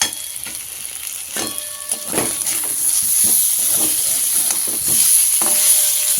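Tomato and potato frying in a pan for a cauliflower curry, a close, continuous sizzle with scattered pops and the scrape of stirring throughout.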